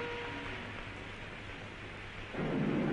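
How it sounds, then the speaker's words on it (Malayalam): Steady broadband hiss of heavy rain pouring throughout, growing louder and denser near the end; no voices. "ഭയങ്കര മഴ,"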